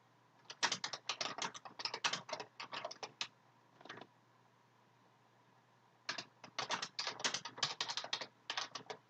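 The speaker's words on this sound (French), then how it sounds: "Je tape ici le contenu." A computer keyboard being typed on while writing WordPress article content: quick bursts of crisp, close key clicks, a brief pause, one short flurry, then a longer silence before the fast typing resumes.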